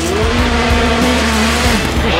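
A four-wheel-drive Peugeot 208 T16 rally car slides sideways on ice, its engine loud and steady with shifting revs and a tyre squeal, heard up close inside the car.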